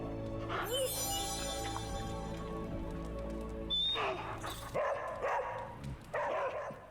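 Charlie, a dog in the video game Marvel's Midnight Suns, barks in several short, loud bursts over a steady game soundscape of hum and music, with a brief pause between each run of barks.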